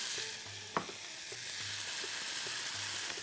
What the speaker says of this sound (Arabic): خليها تتقلى وتصيب الماء